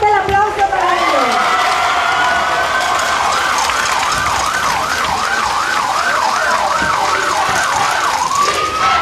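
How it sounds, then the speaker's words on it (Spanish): A loud wailing Red Cross siren rises and falls in a steady repeating cycle at a fundraising drive event, with a crowd cheering and voices in the background. "Esa sirena"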